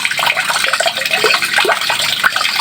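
Water is poured over an animal's head outdoors in the late afternoon, a steady loud splashing and trickling that runs continuously throughout.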